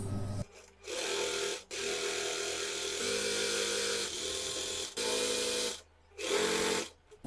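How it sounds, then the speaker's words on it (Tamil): A sewing machine runs in repeated bursts while stitching a fabric belt, starting with a lock stitch. The motor whirs steadily through several close, loud runs separated by brief pauses. "நம்ம இப்போ தொடங்கும் போது ஒரு லாக் ஸ்டிச் போட்டு தொடங்கிக்கலாம்."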